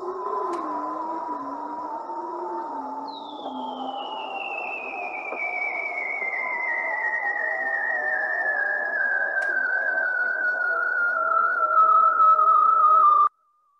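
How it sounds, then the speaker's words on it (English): A male bearded seal calls underwater in a long descending whistle-like trill that glides steadily downward over about ten seconds, with other fainter seal calls and low warbles in the background. "This is one sound from a bearded seal."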